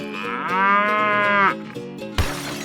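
A cartoonish cow moos loudly and alone in a 3D animal slide video game, one long drawn-out lowing call followed by a short burst of game noise.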